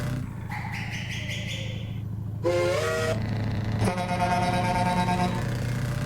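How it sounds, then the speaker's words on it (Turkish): A Scania V8 city bus that needs maintenance sounds its air horn over the low, steady drone of the idling engine: short tonal bursts, then a louder, longer blast. "havalı korna sesleri var."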